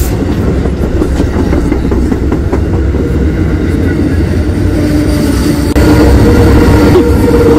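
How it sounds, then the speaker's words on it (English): An Amtrak train rumbles past at close range, loud and continuous, with rhythmic clacking of wheels on rails that swells louder near the end. "Train's coming!"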